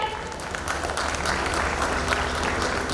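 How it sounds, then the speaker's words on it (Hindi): Audience applause at a real estate marketing panel discussion, a dense, continuous wash of many hands clapping, steady and moderately loud throughout with no speech. "जोरदार तालियां हो जाए"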